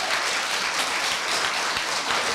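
A school speaking-contest audience claps steadily, a dense, even wash of applause from many hands for a couple of seconds.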